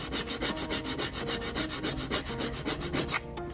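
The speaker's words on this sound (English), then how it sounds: "we're just shaving metal off this key" A metal key scrapes hard across a floor sample coated in matte urethane with a grit additive, giving close, rhythmic back-and-forth rasping strokes that stop abruptly near the end.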